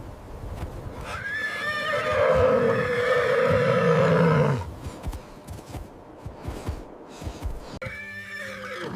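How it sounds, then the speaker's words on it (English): A horse in distress in brutal Mongolian winter cold gives a long, loud whinny lasting several seconds, followed by softer snorts, shuffling and scattered clicks. "The horse whinnied in distress, its breath fogging the air in the brutal cold."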